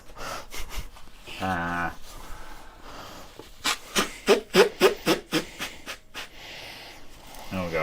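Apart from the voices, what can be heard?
person blowing their nose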